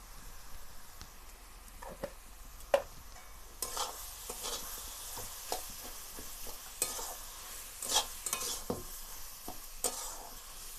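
Salt is stirred into tamarind in a hot pan, giving a low sizzle beneath repeated scraping and clacking strokes of a spoon, irregular and close, with no talking.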